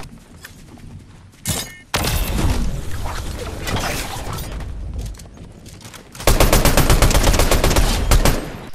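Sniper rifle gunfire in an online shooter video game, with dense bursts of shots and impacts in two loud stretches and a sharp crack early on, over game noise.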